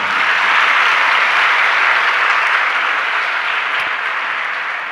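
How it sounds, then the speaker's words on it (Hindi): A seated crowd at a Jain religious discourse claps continuously and evenly, a loud, uniform wash of applause that holds steady and only eases slightly toward the end. "अब देखो, ताली भी बज रही है"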